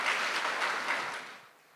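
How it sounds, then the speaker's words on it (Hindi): Audience clapping at a spiritual gathering, a dense burst of applause that holds steady before fading out over about two seconds, with no voices over it. "चलो अपने लिए ताली बजा लो आप"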